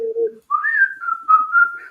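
A clear, close whistle of a tune: a low opening note, a brief pause, then a wavering higher melody that holds steady and loud.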